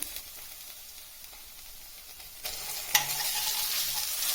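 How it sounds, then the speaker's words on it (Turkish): Onions and garlic fry in a pan as about two spoonfuls of tomato paste are added and stirred; quiet sizzling grows louder midway, with a sharp spoon scrape and brisk stirring, no talking. "Soğan ve sarımsaklarımız kavrulurken biraz içine yaklaşık iki kaşık domates salçası ilave edeceğiz."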